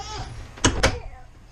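A travel trailer door swings shut, with two quick sharp clunks of the latch close together after a brief stretch of quiet room noise and a faint voice.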